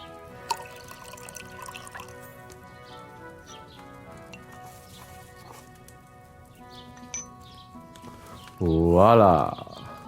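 Liquid glugs and splashes as it is poured out while brewing a potion with mashed sage in Kingdom Come: Deliverance II. The pour comes as a short, loud burst near the end, after quieter game music and small clinks.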